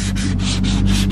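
Steady abrasive sanding of a surface being smoothed to a finish, a continuous rasping rub with rhythmic back-and-forth strokes, close and loud, with a low hum underneath and no talking.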